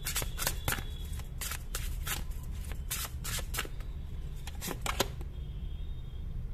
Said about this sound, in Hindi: इस कार्ड को मैं लूंगी, लेकिन मुझे एक और कार्ड चाहिए